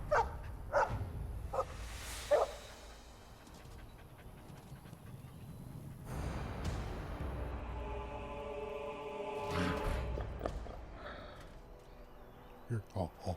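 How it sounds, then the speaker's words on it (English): A dog in Dragon Age: Origins gives a few sharp barks and pants, clustered near the start and again at the end, with a voice talking in between. "Oh yeah, that's my dog."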